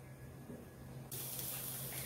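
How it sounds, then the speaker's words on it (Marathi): Boiled chickpeas hit hot oil in a kadhai, and a sudden bright hiss of frying starts partway through and then holds steady at close range, with no voices. "इथे आपण हरभरे तेलावर छान परतून घेणार आहोत"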